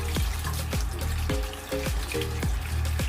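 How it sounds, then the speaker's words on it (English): Yams rinsed in water, with a steady wash of running or splashing water and a series of sharp knocks and clunks roughly every half second, like tubers bumping against a bowl or pot. "Okay, so you rinse them properly."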